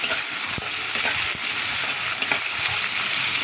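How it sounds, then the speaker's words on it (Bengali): Medium onions sizzle and crackle steadily in hot oil in a pan, with occasional stirring clicks, close and loud, while cooking a potato and lentil chorchori. "এখন এগুলো ভেজে নিতে আছি"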